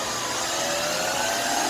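A turbine power head on a vacuum cleaner with a wire-reinforced hose runs steadily, giving a broad, even whoosh with a smooth hum and no shrill whine, constant and close throughout.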